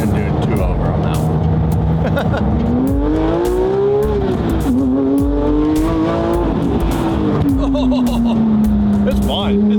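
A low-powered 20-year-old car revs hard under acceleration, engine note climbing and falling through gears, loud and close inside the cabin, with talk over it.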